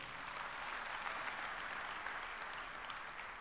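A steady wash of audience applause at an Independence Diamond Jubilee celebration in a Hyderabad convention hall, continuous and even from start to finish, fairly distant and unaccompanied by any voice.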